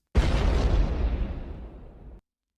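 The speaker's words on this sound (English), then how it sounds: "explosion." A single loud explosion bursts in abruptly, a deep rumbling boom that holds strong and then fades over about two seconds before cutting off into silence.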